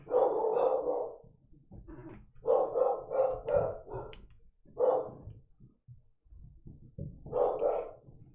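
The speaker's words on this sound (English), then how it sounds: "Sorry about the dogs, guys." Dogs bark repeatedly at a backyard telescope session at night, loud bursts in irregular clusters of two to four barks separated by short pauses, close and dominant with no talk over them.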